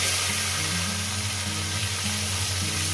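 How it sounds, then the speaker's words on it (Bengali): A whole fish frying in a pan, giving a loud, dense and steady sizzle throughout over a low background hum, with no speech. "গোটা মাছটাকে দিয়ে আমি ভেজে নিচ্ছি"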